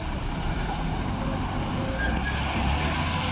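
An empty TATA truck labours up the Dhimbam Ghat road with a dense, continuous low engine drone and broadband road rumble, close and steady throughout, with no voices on top.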